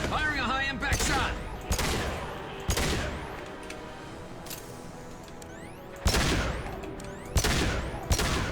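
High impact weapon shots in the sci-fi video game Mass Effect 2, several loud sharp blasts spaced a second or so apart over a background of combat noise, with some distant voices.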